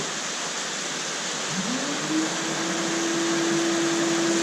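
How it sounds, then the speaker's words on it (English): A dust collection vacuum for a Longmill CNC router runs as a steady, loud broadband roar, with a motor whine rising and settling into a constant tone a moment in. "So let's turn the vacuum on and go."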